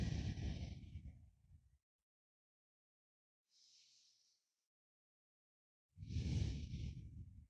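Slow, deep breaths during a yoga session for posture: a long exhale, a quiet pause, a soft inhale, then another full exhale, close and unhurried.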